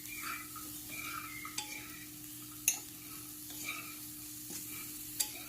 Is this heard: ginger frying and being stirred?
yes